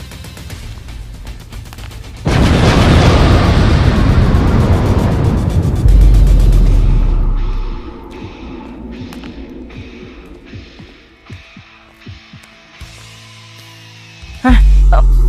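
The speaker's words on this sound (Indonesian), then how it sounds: "Meledak" A sudden loud explosion in an animated show erupts and roars for several seconds, then decays into scattered rumbles and debris-like knocks before another abrupt burst.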